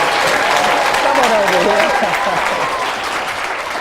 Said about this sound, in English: will you please welcome with a big round of applause